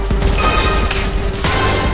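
Rapid gunfire in Fortnite, a dense, loud stream of shots with sharp bursts near the middle and again toward the end, heard close with no talking over it.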